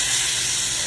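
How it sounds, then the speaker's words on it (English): Butter melting and sizzling in a hot pan before basting a steak, a steady bright hiss held throughout with no talk over it. "Gonna get your butter good and melted in there."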